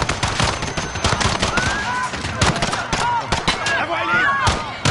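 Gunfire from Call of Duty: Modern Warfare is loud and continuous, with rapid overlapping shots and bursts over a game score. Voices shout at the same time.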